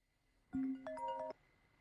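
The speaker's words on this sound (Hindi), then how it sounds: "छियू ने फोन क्यों किया?" A short melodic phone ringtone signals an incoming call, a few clear tonal notes sounding for under a second in an otherwise quiet room.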